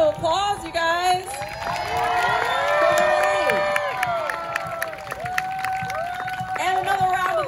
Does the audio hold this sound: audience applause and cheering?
yes